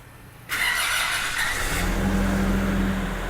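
A 2024 Nissan Navara engine cranks and fires with a sudden whirring start, then settles into a steady, close idle hum.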